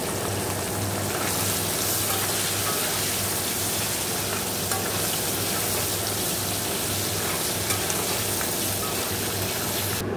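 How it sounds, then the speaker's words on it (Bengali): Prawns frying in hot oil in a wok, a dense, steady loud sizzle that runs continuously and close up without pause. "তো চিংড়ি মাছগুলো ভেজে নেব।"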